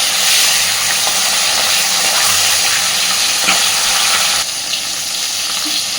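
Steady, dense sizzling of fish heads frying in hot oil, loud and close, with a slight drop in intensity near the end.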